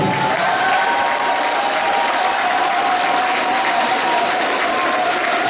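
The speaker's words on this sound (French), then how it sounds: "vous allez être applaudis par l'ensemble des FIO" Sustained, dense applause from a large audience at a Forever Living Success Day event in Burkina Faso greets first-time guests, loud and unbroken, with a faint tonal hum running underneath.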